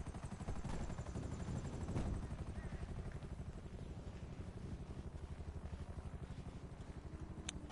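A helicopter in GTA 5 gives off a steady rapid rotor thump with a droning engine whine, loud and continuous throughout with no talk.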